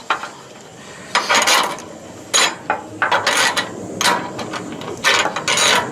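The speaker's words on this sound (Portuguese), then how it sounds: "Está fazendo aqui o aperto da parte de cima da telha." Metal wrench clicks and ratcheting clanks while roof mounting bolts are tightened on a tiled roof during a 5.2 kWp solar panel kit installation, coming in several close, uneven bursts.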